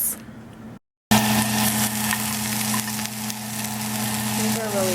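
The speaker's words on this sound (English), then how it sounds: "I'm just gonna pan fry the meat" Thin slices of shabu meat sizzle in a frying pan, a dense continuous crackle and hiss heard close up after a brief cut, with no talking over it.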